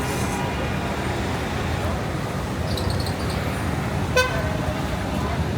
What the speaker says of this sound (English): Look at that traffic.